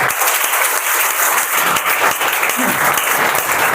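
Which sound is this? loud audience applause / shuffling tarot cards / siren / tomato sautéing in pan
loud audience applause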